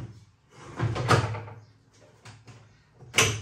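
A beer keg slides into a Philips Perfect Draft home beer machine, giving a few close, hollow plastic scrapes and clunks, with a sharper knock at the end.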